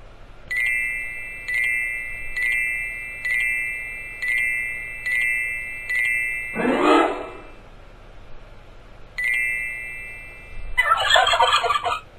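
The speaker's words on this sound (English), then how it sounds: "you can catch the turkeys for extra points" Turkey gobbles in the Dora the Explorer Click & Create video game, a regular series of short bright chiming gobble sounds, then a burst of noisy effects, another gobble and a jingling flourish.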